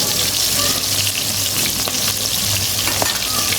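Food frying and being stirred in a home kitchen, with a loud continuous sizzle and faint scraping of the utensil, close and steady, no talking.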